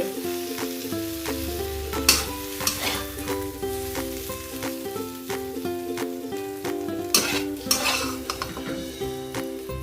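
Cucumber stir-fried with egg sizzles steadily in a hot pan, with metal spatula scrapes and clinks as it is stirred and scooped onto a plate; musical tones run underneath throughout and no one speaks.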